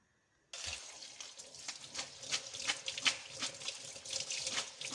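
Tap water suddenly starts running into a kitchen sink as food is rinsed, a close splashing gush with uneven bursts that keeps going to the end.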